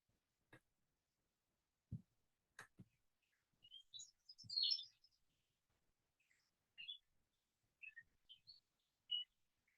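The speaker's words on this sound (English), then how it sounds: "You hear all that going on with the birds?" Birds in a garden give scattered faint chirps and short song phrases at a distance, separated by quiet gaps, with a few soft knocks and rustles nearby.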